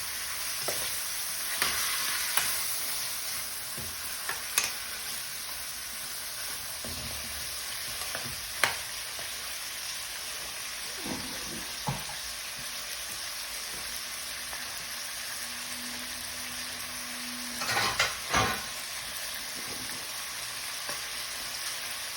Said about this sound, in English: So you stir it to get your meat covered in the curry.